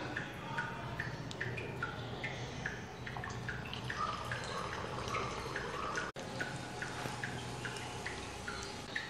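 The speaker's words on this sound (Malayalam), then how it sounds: "ഇനി ചൂടായ എണ്ണയിലേക്ക് കുറേശ്ശെ ഒഴിച്ചു കൊടുത്ത് മുട്ടയപ്പം ഉണ്ടാക്കിയെടുക്കാം." Muttayappam batter poured into hot oil and frying in a pan, a close, continuous crackle and bubbling sizzle with many small sharp pops, no talking.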